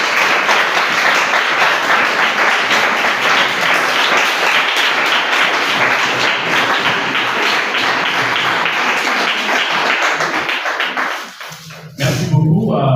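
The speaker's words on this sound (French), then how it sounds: "Nous vous prions de raccompagner l'auteur sous de chaleureuses acclamations." An audience applauds warmly for an author at a cultural event, dense clapping at full volume for about eleven seconds before fading, followed by a voice speaking.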